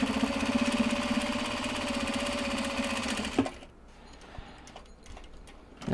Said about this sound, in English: we'll just start by sewing right there